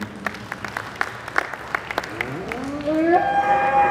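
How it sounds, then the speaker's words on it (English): Applause from a livestock show crowd honouring Red Poll cattle exhibitors, a burst of scattered claps over the first few seconds that gives way to a held tone and other sounds toward the end. "Let's give our red pole exhibitors a nice round of applause"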